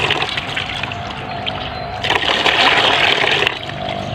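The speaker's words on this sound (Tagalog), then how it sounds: "Hugasan muna natin yung ating mga chicken wings." Running water gushes and splashes over raw chicken wings being rinsed in a kitchen, a steady close stream that grows louder and fuller midway before easing back.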